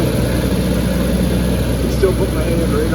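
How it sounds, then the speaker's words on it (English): A 1994 Jaguar XJ12 V12 engine idles just after a cold start, a loud, steady, close-up rumble with an even low drone holding throughout. "Cold start on the 1994 Jaguar XJ12."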